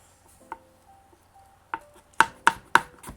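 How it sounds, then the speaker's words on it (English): Knife chopping green onions on a cutting board, a few sparse taps early, then three sharp, close, evenly spaced chops near the end with no talking. "then we chop the green onions, make them even smaller"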